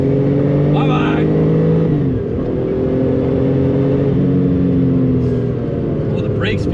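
A Porsche 993 Turbo engine drones steadily and climbs in pitch under acceleration, with a shift in tone partway through, heard from inside the car with wind noise.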